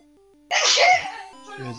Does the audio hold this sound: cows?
no